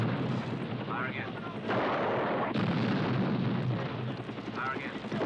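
Heavy artillery fire booms and rumbles in a 1981 movie scene, several loud blasts landing amid constant battlefield roar, with voices calling out over the barrage.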